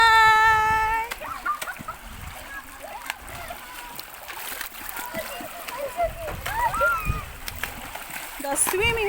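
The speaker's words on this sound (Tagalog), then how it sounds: "The swimming pool in San Jacinto, Bolo." Water splashes and sloshes at an outdoor swimming pool in San Jacinto, Bolo, during a family outing, with irregular nearby splashes and gurgles throughout while voices talk, call and shout over them.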